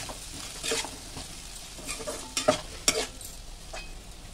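Spices including turmeric powder, coriander powder and garam masala being stirred as they fry in a pan for potato dosa filling, with a steady sizzle broken by a few sharper scrapes and clinks near the end, no talking.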